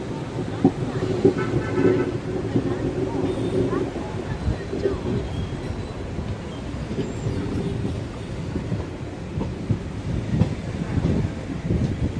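A Jan Shatabdi express train from Thrissur rolls along with a continuous rumble and rhythmic wheel clatter, moderately loud, while a voice talks over it.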